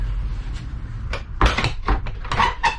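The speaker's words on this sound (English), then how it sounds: "I'm just going to shut the door" An office door is pushed shut from inside a newly finished room, a few sharp knocks and a firm closing thud, close by and followed by light handling noises.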